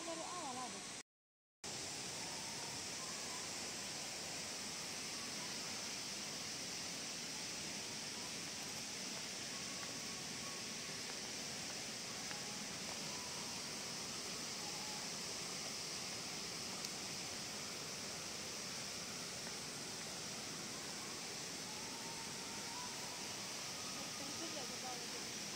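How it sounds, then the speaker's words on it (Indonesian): A waterfall at the Taman Iman tourist park makes a steady, broadband rushing roar that runs continuously and fairly softly, with one brief dropout near the start. "air terjun."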